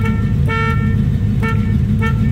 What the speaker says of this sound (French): Le klaxon fonctionne, il est un petit peu difficile à trouver.